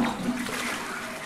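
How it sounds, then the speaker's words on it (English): A toilet flushing in the horror video game Silent Hill Downpour, a single close rushing swirl of water that holds steady and then slowly tapers. "Give the good toilet a flush."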